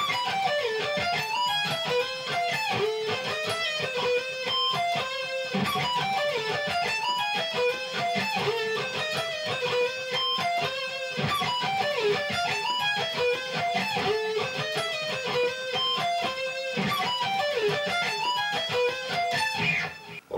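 Electric guitar riffs from a metal song, played loud and continuous with no pauses, dense distorted chords and quick picked notes over a full backing.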